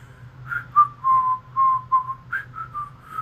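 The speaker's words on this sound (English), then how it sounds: "he sucks at whistling" A person whistles a short, wavering tune in uneven, breathy notes, close by and alone, with a low hum underneath.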